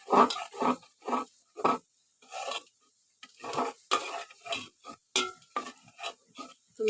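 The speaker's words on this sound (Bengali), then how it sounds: "আর আমি ভালো করে নাড়িয়ে দেবো।" Spoon stirring sugar into payesh in a pot, a steady run of short scraping strokes with brief pauses, close and fairly quiet.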